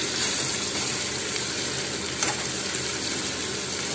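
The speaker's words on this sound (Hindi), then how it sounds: "बढ़िया प्याज भी फ्राई हो रहे हैं" Onions frying in a pan while cooking cauliflower, giving a continuous, fairly loud sizzle with a brief brighter crackle near the middle and no talking.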